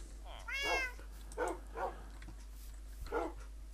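Cats meowing in the video game Minecraft, set in a village: a few short, fairly faint meows spaced out over a steady low hum, with no talking over them.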